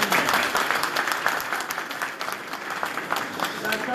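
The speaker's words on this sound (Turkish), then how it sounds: "Alkışlarda bir azalma duyuyoruz." Applause from an audience at a name-calling event, continuous clapping that stays fairly loud throughout and thins slightly toward the end, with no one speaking over it.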